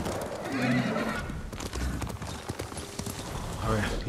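A horse in Ghost of Tsushima whinnies over clopping hooves and a busy game background, with a second shorter neigh near the end.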